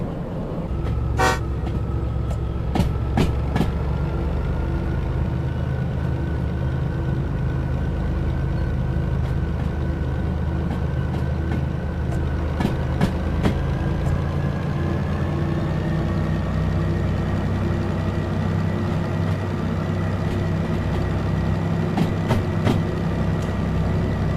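Passenger train running with a steady rumbling drone and a sustained tooting tone, heard from on board, with a few sharp clanks and clicks scattered through.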